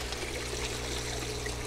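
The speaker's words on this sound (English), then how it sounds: "So I just water them with the water from my aquaponics," Water from a home aquaponics system's swirl filter is poured onto potted pepper plants, making a steady, continuous splashing hiss that stays even throughout with no voices.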